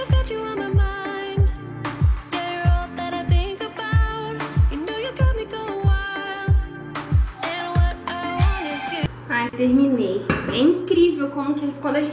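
Dishes being washed in a home kitchen, pots and cutlery clinking in a steady series of sharp knocks and rattles over several seconds, with running water near the end and a voice speaking at times.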